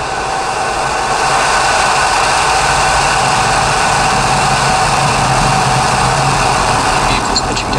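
A SpaceX Falcon 9 rocket lifts off on a Starlink mission, its engines producing a loud, continuous broadband roar that holds steady and unbroken throughout, with no voices over it.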